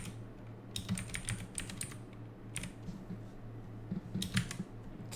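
Keys clatter on a computer keyboard in short irregular bursts of quick clicks, close and fairly quiet, with no talking.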